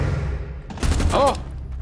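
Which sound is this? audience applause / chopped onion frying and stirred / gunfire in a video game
gunfire in a video game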